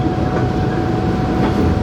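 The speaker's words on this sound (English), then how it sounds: "Here's another train, it looks like it's ethanol." A freight train of ethanol tank cars rolls past nearby, making a dense, continuous rumble without any distinct horn or voice.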